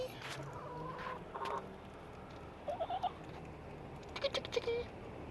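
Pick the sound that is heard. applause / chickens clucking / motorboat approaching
chickens clucking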